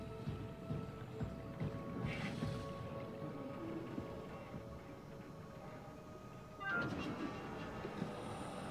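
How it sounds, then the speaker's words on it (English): A shuttle train in the horror game Soma runs with a faint, steady rolling rumble and thin tonal hum, a brief louder swell of rattling near the end, no talking. "Oh, the shuttle train."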